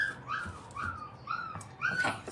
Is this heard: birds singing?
no